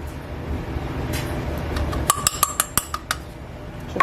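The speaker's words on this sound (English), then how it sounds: "we're gonna mix it gently because you don't want it to go everywhere" A utensil mixes cake batter with cornstarch in a bowl for a flourless coconut cake, gentle stirring and scraping giving way to a quick run of bright clinks against the bowl, close and fairly loud.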